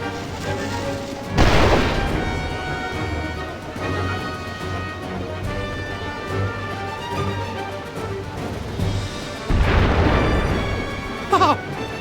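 Cannon fire in the Final Fantasy War of Visions video game: two heavy, booming blasts several seconds apart, each bursting loud over an ongoing musical score, with a small sharp impact near the end.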